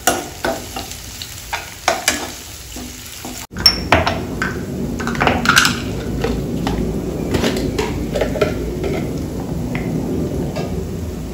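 Ginger and garlic fry in a hot pan with a steady crackling sizzle, preceded by a few sharp clinks of utensils and then stirring scrapes over the continuous frying.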